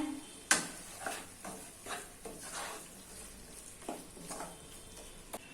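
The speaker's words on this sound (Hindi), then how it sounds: "अभी इसको एक बार अच्छे से मिक्स कर लेना है।" A spoon stirs chicken liver masala in a pan, giving soft scraping strokes and a few sharp clinks over a faint sizzle, close and fairly quiet.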